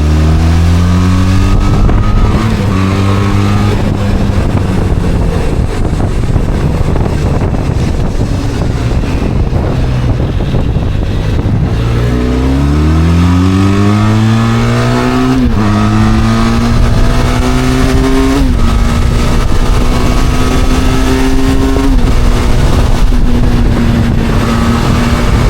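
A 235 kg trail motorcycle's engine pulls hard on a test ride, its pitch climbing through several rising sweeps as it gains speed, then holding a steady drone, with loud, continuous wind buffeting throughout.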